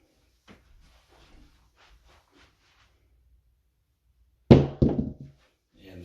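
Craps dice land on the table with a hard thunk and then a couple of quick tumbling knocks, close and sudden after near silence with faint soft rustles before it.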